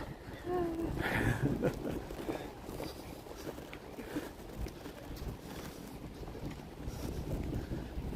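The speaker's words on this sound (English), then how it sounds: "It's a blustery day." Wind buffets an outdoor microphone in steady, rumbling gusts at a Walt Disney World resort, strongest in the first couple of seconds and then easing slightly, with faint voices underneath.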